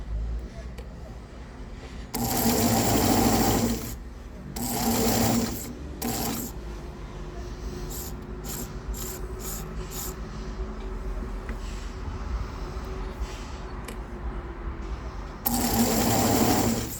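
A home sewing machine stitches fabric for a crocheted baby blanket, running in loud sustained bursts separated by pauses as the needle is lowered and the cloth is turned at a corner, with quieter mechanical handling noises between runs.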